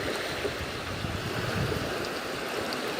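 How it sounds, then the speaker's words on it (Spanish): Calm sea waves wash softly onto a sandy beach in a steady, gentle hiss of water and surf that stays even throughout, with no voices present. "El mar está tranquilo, las olas suavemente acarician la playa."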